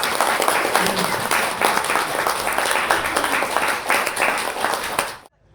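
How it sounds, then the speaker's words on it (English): Audience applause at a gathering welcoming Glastonbury's new mayor, a steady wash of many hands clapping close by for about five seconds before cutting off abruptly, with faint voices mixed in. "A round of applause."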